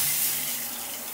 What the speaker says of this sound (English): Look at that, water coming out of the shower head.